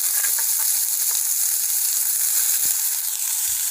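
Sliced onions and curry leaves frying in hot oil for a wheat flour snack, giving a loud, close, continuous sizzle with a few soft stirring knocks.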